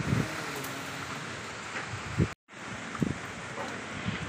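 Strong typhoon wind gusting outdoors in Laguna buffets the microphone with a steady broadband roar and low thumps, cutting out briefly midway before resuming.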